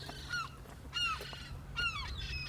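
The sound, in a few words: seagulls screaming on the seafront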